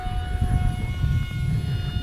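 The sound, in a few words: RC jet flying at full throttle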